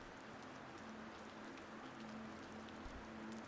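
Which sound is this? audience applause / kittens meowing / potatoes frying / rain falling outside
rain falling outside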